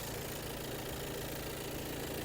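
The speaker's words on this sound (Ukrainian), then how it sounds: "Моторчик працює дуже гарно." A 2020 Skoda Kodiaq Laurin & Klement 4x4 engine idles steadily at close range, a low continuous rumble with a faint rhythmic knock underneath and no voices.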